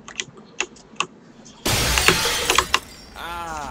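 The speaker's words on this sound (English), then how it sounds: "Glass fell." Glass shattering in the VR game Rec Room, a sudden loud crash with bright tinkling debris that rings for over a second after a few sharp taps.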